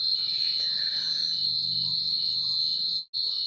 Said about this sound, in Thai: พาพี่น้องมาฟัง เสียงจิ้งหรีดนะครับฟังเลยครับ